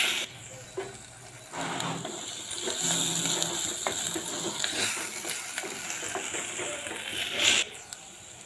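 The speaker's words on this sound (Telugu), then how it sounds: "ఎండు రొయ్యలండి ఒక 10 నిమిషాలు దీంట్లో వేపుకోవాలి." Dried prawns frying in a pan for Telugu dried prawn and cucumber curry, a steady soft sizzle with occasional scraping and clinks of a spoon against the pan, fairly close and continuous without talk.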